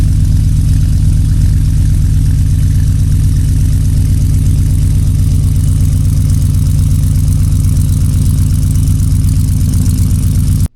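A stock 6.2L Dodge Hellcat V8 engine idles loudly and close by on a lift with a steady, deep, rhythmic burble that stays even throughout, then cuts off abruptly at the end.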